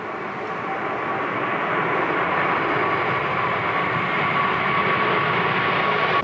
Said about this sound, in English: This A380 taking off with snow spraying behind it.